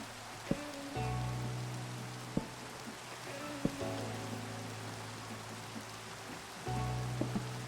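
Steady rain in a video game, falling alone as an even wash of patter, with a few sharp clicks and low tones breaking through now and then.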